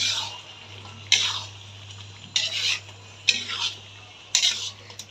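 Pieces of meat dropped one by one into a pan for a spinach and meat curry, four distinct scraping stirs spaced about a second apart over a steady low hum, close and fairly quiet.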